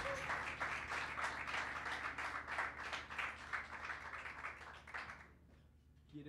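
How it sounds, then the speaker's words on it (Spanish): Audience applause at a live bar concert, steady dense clapping held for about five seconds before quickly fading out, with no talking over it. "Un aplauso para Gastón y para Mau también."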